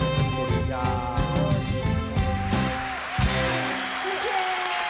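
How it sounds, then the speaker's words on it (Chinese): A studio audience on a Taiwanese variety show applauds, a steady wash of clapping rising under loud music that continues throughout. "热烈的掌声鼓励一下。"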